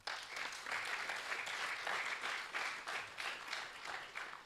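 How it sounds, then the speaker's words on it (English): An awards-ceremony audience applauds steadily, dense clapping filling the space at an even, sustained level for several seconds. "Give them a round of applause."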